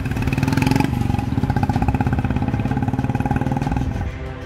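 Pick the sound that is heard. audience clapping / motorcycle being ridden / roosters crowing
motorcycle being ridden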